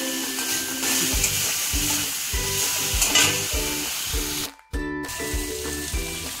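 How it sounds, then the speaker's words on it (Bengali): Fried pointed gourd sizzling with turmeric, salt and a little sugar in a pan, with a steady loud fry hiss over repeated scraping stir strokes and a brief drop in sound partway through. "এবার এই পটলটা দিয়ে দিলাম এর মধ্যে,"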